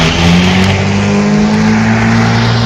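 A Black & Decker cordless battery electric lawn mower cuts through tall grass, its loud steady motor whine dipping slightly as it bogs down under load.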